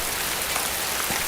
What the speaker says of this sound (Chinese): 大雨数日，至今未停，可谓天地同气。